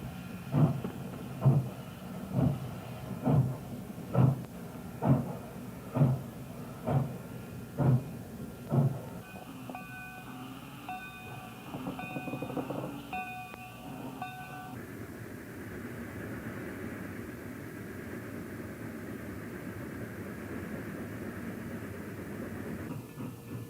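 Pennsylvania Railroad trains at evening: a GG1 electric locomotive speeds by overhead with rhythmic clacking wheel beats, then a Class A5A 0-4-0 steam switcher makes up freight, with clanking and a steady rumble.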